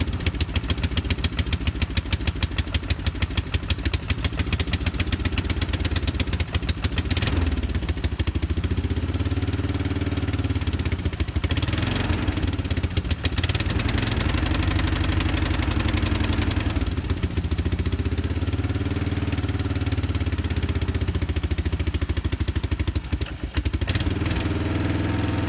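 A quad ATV engine idles in the cold after sitting unused, a steady low chugging putter with faint clatter and slight throttle swells, running alone for the whole stretch.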